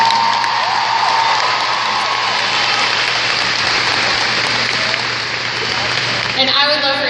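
An event audience claps and cheers in a dense, continuous wash that lasts several seconds, heavy and even like rain. Near the end a voice starts up over the applause.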